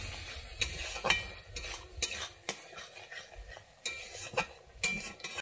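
A spoon scrapes and clinks against a pan while spice paste and water are stirred and cooked down for a vegetarian Bengali giant taro root (sola kochu) curry; the close, irregular strokes come about once a second over a soft simmer.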